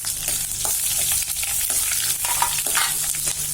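Dried red chillies frying in hot oil for tamarind rice, giving a continuous crackling sizzle with scattered pops and the scrape of stirring, close and loud, with no talk.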